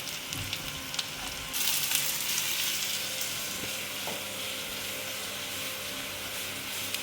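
Medium-sized onion frying in a pan for chicken stew, a steady hiss of sizzling oil that swells after the onion goes in and continues evenly, with a few faint clinks and no talking.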